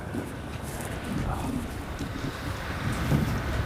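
Steady outdoor wind roars and buffets the microphone near an aircraft setting, a continuous broadband rush that swells slightly toward the end, with no talking.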